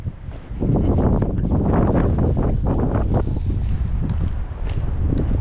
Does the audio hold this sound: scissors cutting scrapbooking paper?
no